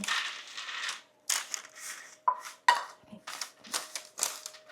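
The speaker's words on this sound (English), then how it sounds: "I'm going to spread them on a baking sheet." A cup of pine nuts rattles and clatters as they are poured and pushed across a metal baking sheet, in close, repeated short bursts with brief pauses between them.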